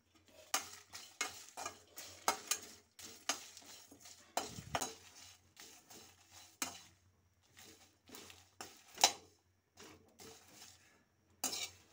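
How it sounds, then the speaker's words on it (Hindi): Whole spices for an old-style lemon pickle being dry-roasted in a kadhai, with repeated scraping and stirring strokes and light metallic clinks of a spoon against the pan, close and steady with short pauses. "ये सारे मसाले जा रहे हैं कढ़ाई में थोड़ी थोड़ी देर के लिए भूनने के लिए"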